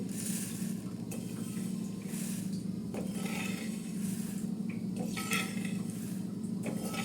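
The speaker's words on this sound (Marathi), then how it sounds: "आता ही जव आपण काढून घेते" Roasted flaxseeds are scraped and scooped out of a pan after slow dry roasting, with steady rough scraping and rubbing, light clinks of a spoon on metal, and a faint sizzle, close and without speech.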